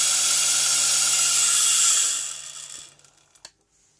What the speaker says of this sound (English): So I can run it from really slow for control the stuff to like.